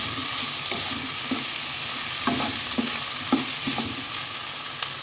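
Mixed vegetables and chicken pieces frying in a pan, a steady sizzle with repeated stirring scrapes and clinks at irregular intervals, close and moderately loud with no talking.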